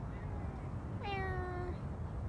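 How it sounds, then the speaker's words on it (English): A Savannah cat gives one clear, drawn-out meow, rising then sliding down, close by over a low room hum. "Now Beecher is a Savannah cat, so you can see how he does look similar to an African serval"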